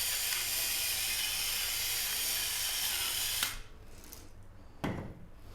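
Black pepper is ground over a sandwich with a steady, gritty mill rasp lasting several seconds. The grinding stops abruptly, and a single short click follows in the quiet.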